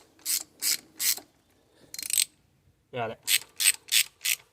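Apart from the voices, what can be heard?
ratchet loosening a thermostat housing bolt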